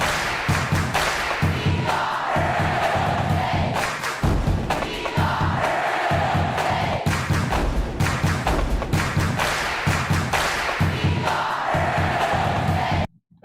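Loud, looping crowd chant in College Basketball 2K8, with rhythmic thumping stomps and cheering repeating steadily under dense arena noise for most of the clip before a brief drop at the end.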